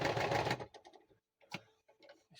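A sewing machine whirs in a short burst of stitching, then stops, followed by a few quiet ticks and clicks of the mechanism.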